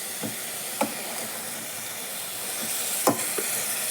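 Medium-ripe guava pieces sautéing in a pan with rock salt give a steady, soft hiss broken by a few light clicks and knocks, with no voices.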